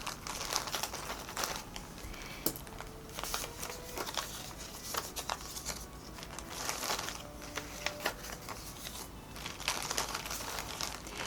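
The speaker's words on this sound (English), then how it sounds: "Fold each piece of paper and put it into a bag." Pieces of paper are folded and handled, giving repeated crisp crinkles, rustles and sharp creases that come close and clear in irregular bursts throughout, with no talking.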